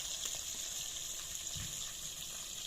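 Steady bright sizzling of fish frying in hot oil, a continuous hiss with faint low clatter beneath, no voices.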